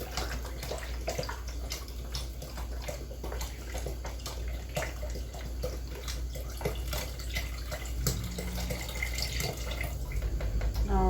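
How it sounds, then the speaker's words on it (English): Tap water runs steadily into an Instant Pot already holding beef broth for 15-bean soup, a continuous splashing fill with faint drips, heard alone throughout. "I just filled this back up with water, and I'm going to fill it up to a max line."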